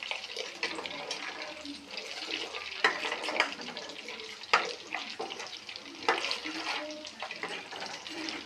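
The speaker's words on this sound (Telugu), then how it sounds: "చూడండి ఎంత బాగా మరుగుతుందో" Butter simmering down into ghee in a pan, a steady close bubbling sizzle with crackling pops and sharper spits scattered throughout.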